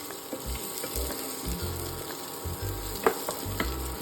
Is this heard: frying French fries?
yes